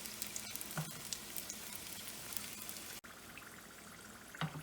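Kothambir vadi, cilantro pockets, sizzle steadily as they fry until golden, a continuous close crackle of hot oil with small pops and a brief dip partway through.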